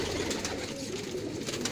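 Domestic pigeons kept in a loft coo in soft, rolling low murmurs that overlap continuously, close by and moderately loud, with no talking.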